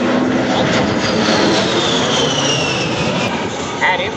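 Loud, continuous jet roar of an A-10 Warthog flying low over an air show, a broad steady rush with a faint pitch sweep as it passes, with an announcer speaking over it.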